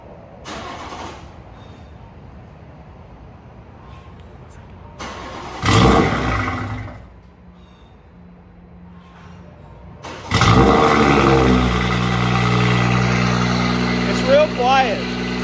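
BMW 340i F30 with an upgraded fuel pump and bolt-on mods: after a spoken countdown and a brief crank, the engine fires and settles into a loud, steady idle close by, with voices talking over it.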